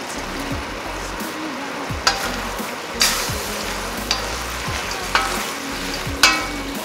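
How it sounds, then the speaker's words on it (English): Fried chickenless cauliflower being tossed in a thick, glossy orange sauce in a pan, with a steady sizzle and several sharp clatters and scrapes as the pieces are stirred, close and alone. "Now go ahead and add fried chickenless cauliflower into the sauce"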